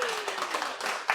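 Audience members at a forum lecture clap briefly in agreement, a quick patter of hand claps with a sharper burst at the end, heard close beneath speech.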